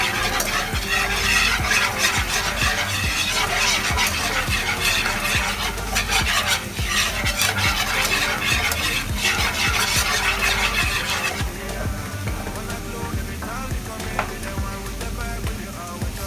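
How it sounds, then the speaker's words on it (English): Chicken wings sizzle in a pan of habanero glaze while being stirred, a dense continuous crackle with frequent scraping strokes that eases slightly toward the end. "So oh, baby, they are sizzling over here."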